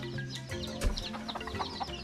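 Chickens cluck and call at a village homestead, several overlapping hen voices near and mid-distance over steady ambient noise, with no talking.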